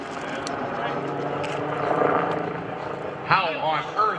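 A helicopter flying in an airshow drones steadily with a low rhythmic rotor thump, while people talk over it.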